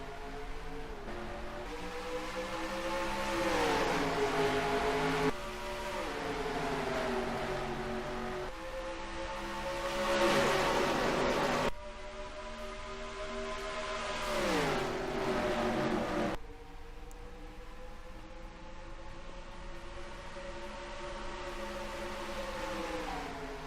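Truck Series race trucks roar away at the green-flag start at Dover, engines rising in pitch and dropping with each gear shift as the pack accelerates, loud and continuous with no voices.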